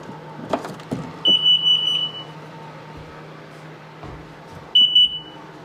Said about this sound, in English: she's beeping, making all kinds of noises